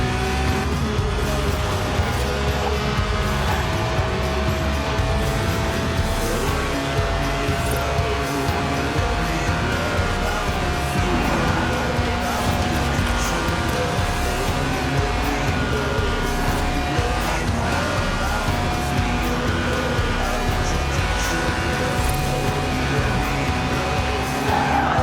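Lotus sports car with a 1.8-litre engine making 190 horsepower and revving to 8,000 RPM, racing in Forza Horizon 4, its engine droning steadily and loud throughout with tire squeal and busy road-racing noise, no voices.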